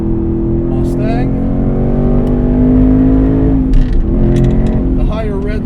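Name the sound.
670 HP Roush Stage 3 Mustang engine revving to redline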